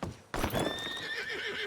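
A horse in Red Dead Redemption II gives a high, drawn-out whinny close by, with hoof clip-clops and movement sounds beneath it, starting suddenly after a brief quiet moment.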